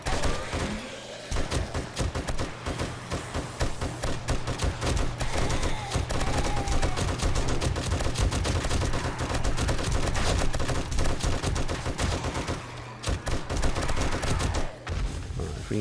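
Dense, continuous gunfire fills horde night in 7 Days to Die, with rapid overlapping shots and bursts at a launch site, loud and close, with a brief lull near the end.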